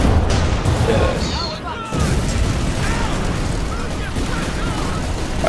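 Anti-tank six-pounder guns firing in a World War II strategy video game, heavy booms over continuous battle noise with clanking mechanisms and a brief lull, while players talk excitedly over it.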